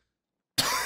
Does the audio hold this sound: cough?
yes